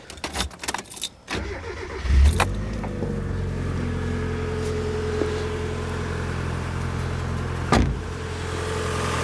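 A Mazda Miata NA with a bad engine cranks and starts, then settles into a steady, loud close-up idle with a faint irregular stumble, and no one talks.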